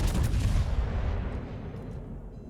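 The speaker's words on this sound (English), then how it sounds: "Fubuki is now going to start plastering me with high explosive" The destroyer Fubuki's guns fire high explosive shells in World of Warships, making a heavy, booming blast that rolls off into a fading rumble.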